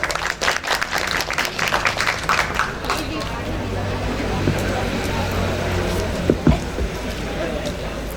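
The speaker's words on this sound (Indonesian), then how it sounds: "Tepuk tangan untuk Aswa." Audience applause for a student contestant at a school literacy bazaar retelling competition, a few seconds of clapping over crowd murmur, giving way to a steady hum of room noise and babble.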